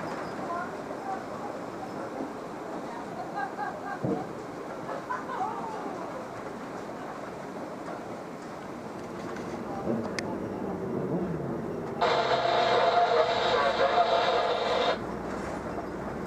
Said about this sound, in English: Here's what it looked like as Slow Bells took her ride on the Big Chute Marine